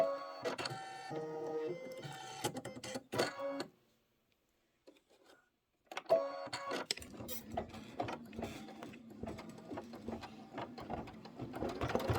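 Embroidery machine stitching a broom design in gray thread, a close, steady mechanical whir and clatter that stops for about two seconds of near silence, then resumes with rapid, even stitching.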